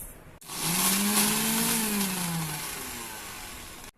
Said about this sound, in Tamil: இதை இன்னொரு வாட்டி நல்லா அரைச்சிக்கலாம்